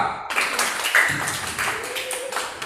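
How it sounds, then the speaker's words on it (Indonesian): Fifth-grade students in an Indonesian classroom clap for group A, a brief burst of close hand claps and taps that begins abruptly and quickly thins out. "Tepuk tangan untuk kelompok A"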